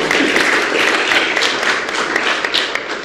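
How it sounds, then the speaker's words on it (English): A conference audience gives a round of applause for a game-development guest, with dense, steady clapping throughout that fades slightly at the end. "Let's give her a round of applause."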